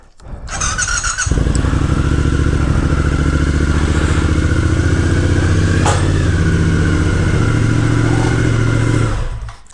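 A motorcycle engine idles loudly and steadily in a garage as the bike is ridden onto a Harbor Freight motorcycle dolly, with a brief squeal and clatter at the start.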